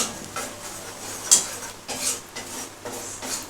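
Gram flour being fried low and slow in a pan for paneer korma, a spatula scraping and stirring it in repeated close, clattering strokes with only a faint sizzle beneath.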